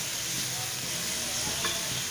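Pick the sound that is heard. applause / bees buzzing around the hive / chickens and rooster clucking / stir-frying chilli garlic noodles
stir-frying chilli garlic noodles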